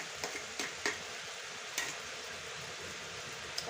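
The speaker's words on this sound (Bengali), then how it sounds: "এখন আমি পাঁচফোড়নের পাউডারটা মিশিয়ে দিচ্ছি" A spoon stirs sweet-sour grape pickle with panch phoron powder in a hot pan: a constant soft sizzle broken by a few sharp scraping clicks at uneven intervals, close by and without speech.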